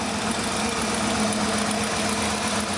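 A restored 1960 Ford F-100 pickup with a 460 big block V8 idles steadily, a loud, close, continuous rumble with an even low throb and no voices.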